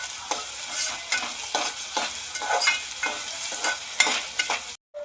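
Onion and tomato frying in oil for Malvani chicken, with a loud continuous sizzle and repeated spatula scrapes and stirs close by, ending in a sudden cut to silence.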